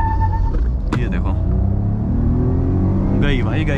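A 2024 Maruti Swift and a Baleno, both manual, launch in a drag race on an empty road, a loud low engine rumble rising as they accelerate hard with a brief sharp burst of revving, while someone talks over it.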